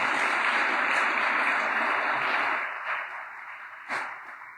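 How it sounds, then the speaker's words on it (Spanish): A church congregation applauds during a sermon, giving a steady wash of clapping that stays strong for a few seconds, then fades and thins into a couple of scattered claps. "dele un aplauso al Señor"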